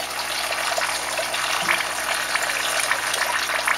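Water rushes steadily into the grow bed of a small home aquaponics system, a continuous close gushing flow with no pauses.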